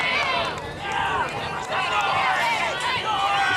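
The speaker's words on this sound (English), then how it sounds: "She's got a cheering section." A rodeo crowd in San Francisco cheers and shouts in a dense, lively wash of many voices, rising and falling over a few seconds, with an announcer talking over it.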